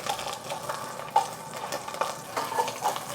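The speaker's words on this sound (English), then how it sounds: "Once your oil is hot, we're gonna put the onions down." Onions go into hot oil in a pot for an Asian soup and fry with a soft, continuous crackle and sizzle, close and fairly quiet, with faint stirring sounds and no speech.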